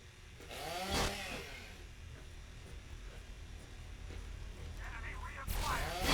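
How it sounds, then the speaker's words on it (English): A chainsaw revs in the Fallout 3 video game, a steady buzzing drone running throughout with louder bursts near the start and end. "I have a goddamn chainsaw."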